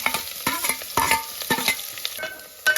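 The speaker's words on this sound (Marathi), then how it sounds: "कांदो टाकला ना कांदो लाल होईपर्यंत आपल्याला परतून" Onion stir-fried in oil for a Malvani cashew chicken dish: repeated scraping strokes of a spatula in the pan, roughly one every half second, over a light sizzle, close and fairly loud.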